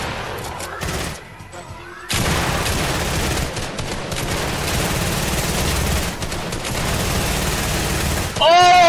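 SMG fire in Fortnite Battle Royale rattles in fast, continuous bursts, loud and close, broken by a short lull before the shooting resumes and runs on to the end.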